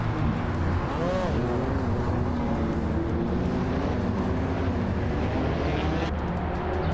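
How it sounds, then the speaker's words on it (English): A 2014 Abarth 500 Assetto Corse race car in a racing video game launches off the line, its engine roaring loud and continuous with rising revs alongside other cars, under a commentator's voice. "Henfatic has shot off the line to take the lead"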